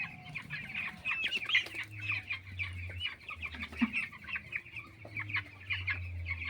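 Hens with their chicks cluck and peep steadily on a poultry farm, a busy mix of bright chirps and low clucks with no speech.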